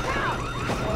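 Door alarm in the video game Back 4 Blood, a wailing, siren-like tone with rising and falling sweeps held loud and steady for about a second, without talk.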